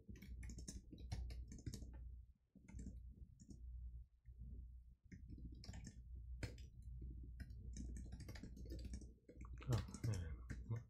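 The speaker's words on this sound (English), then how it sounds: "My typing is really bad today, too." Typing on a computer keyboard while coding, a rapid, fairly quiet patter of close key clicks with brief pauses, over a low room hum.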